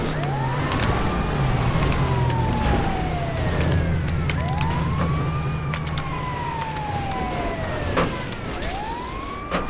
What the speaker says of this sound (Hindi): हॉर्न जला दिया ताकि बंदों को पता चल जाए बिग डैडी आ रहे, एम्बुलेंस आ रही